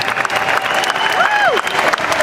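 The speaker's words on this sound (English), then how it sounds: "So a big round of applause for the candidates for being here tonight." An audience applauding debate candidates at a political debate, steady dense clapping from a crowd filling the whole moment, with a whistle-like tone sliding briefly through the middle.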